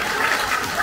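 Audience applause at an Islamic religious gathering (tabligh akbar), a brief dense burst of many hands clapping together, steady and fairly loud.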